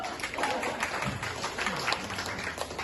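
An audience claps for the bass player at a live comedy band show, a dense, steady burst of applause from a crowd with some voices mixed in.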